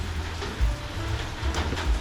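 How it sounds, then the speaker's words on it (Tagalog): Heavy rain in a thunderstorm, falling as a steady close hiss with low rumbles pulsing underneath; no voices. "umuulan ng malakas at kumikidlat, kumukulog"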